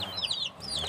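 A wild junglefowl (labuyo) hen gives a couple of short, high, rising clucks close by, with quiet background hum between calls.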